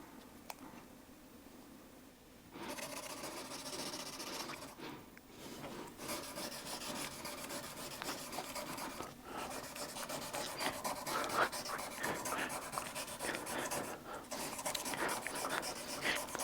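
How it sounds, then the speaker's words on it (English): A Swiss Army knife is hand-sanded with 600 grit sandpaper, making a continuous, fairly quiet scratchy rubbing in long even strokes, with brief pauses between passes. "So let's start with the 600 grit sandpaper."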